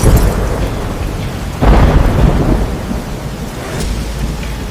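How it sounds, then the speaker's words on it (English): Heavy rain pours steadily while low thunder rumbles and swells midway, loud and close, with no voices. "The storm is rolling in. The rain will hide my tracks"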